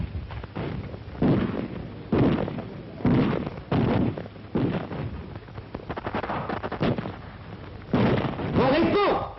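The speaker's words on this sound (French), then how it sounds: "Des rafales traversent les places." Gunfire rolls across a Paris street battle in 1944, heard as repeated loud bursts and cracks at irregular intervals over a rumbling, noisy background, sometimes bunched into short rapid volleys.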